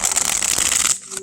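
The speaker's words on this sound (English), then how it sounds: "Shuffle's amazing." A US Games tarot deck being shuffled gives a close, crisp riffle of fluttering card edges that stops abruptly, followed by a short quiet tail.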